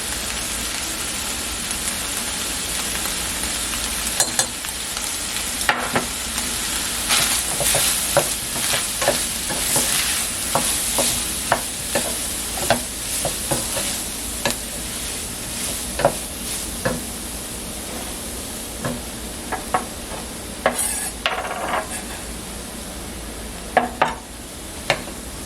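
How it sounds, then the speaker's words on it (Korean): Beef stir-fries in a pan with chipotle seasoning, a steady close sizzle punctuated by repeated scraping and clacking of a spatula against the pan, with no talk. "그래서 이거 넣고 볶아줍니다"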